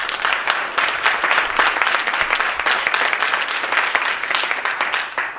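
A town hall audience gathered in a church claps for the host pastor and church, a dense, even burst of applause that carries steadily for several seconds.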